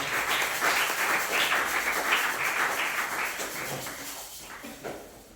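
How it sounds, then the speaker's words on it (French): A church congregation at a French-language service claps together in praise of the Lord Jesus, a thick, continuous patter of many hands that carries on for several seconds and gradually thins toward the end. "Applaudissez pour le Seigneur Jésus."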